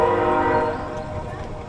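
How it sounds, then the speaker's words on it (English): A train at Bowness Park rumbles by with a sustained, tonal horn-like drone in the background, steady and fairly loud, fading slightly toward the end. "Oh, we got the real train in the background too."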